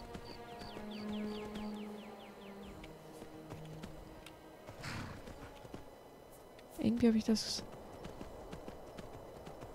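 Horse hooves clip-clop in steady rhythm in the game Skyrim, with a louder burst of clattering movement near the end while someone talks over it.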